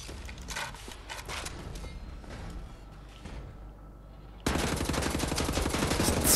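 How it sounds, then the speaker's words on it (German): Gunfire in Wolfenstein: The New Order, rapid automatic bursts that start faintly, drop off briefly, then return as a loud, dense close-range volley for the final two seconds. "Da kann ich gut auf ihn schießen."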